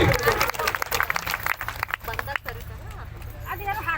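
Devotees applauding at a temple fair award ceremony, scattered rhythmic clapping from a crowd mixed with loud announcer-style speech and general babble.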